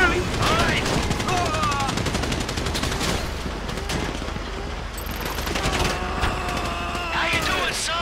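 Rapid automatic gunfire during a GTA V video game bank robbery, continuous dense bursts of shots with loud impacts throughout, under occasional shouting voices.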